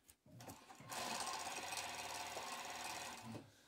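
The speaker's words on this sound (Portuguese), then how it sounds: "Agora nós vamos costurar." Sewing machine stitching fabric for children's underwear, a steady close mechanical whir running continuously for about three seconds after a brief start, with no talk over it.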